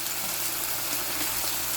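Chicken steak frying in hot oil gives off a steady, even hiss of sizzling, close and moderately loud, with no talking over it.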